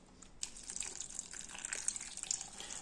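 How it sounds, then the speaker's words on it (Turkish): Milk pours onto chopped watermelon in a blender for a cold drink, making a soft, continuous splashing trickle that stays faint and close for about three seconds. "Hemen sütümü döküyoruz."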